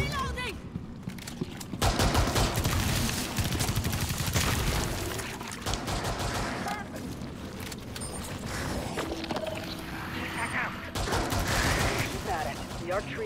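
Gunfire in Rainbow Six Extraction, rapid automatic bursts crackling close and loud, with mechanical clanks and creaks between volleys and voices talking over the firefight.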